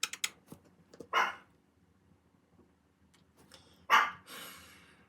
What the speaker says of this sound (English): Oh, the dog barked.